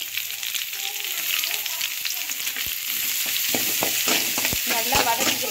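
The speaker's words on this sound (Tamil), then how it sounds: "நல்லா வதக்கிக்கலாம்." Sliced onions sautéing in a pan for ragi semiya upma, a steady close sizzle and frying hiss with intermittent spoon scrapes and stirring clicks toward the end.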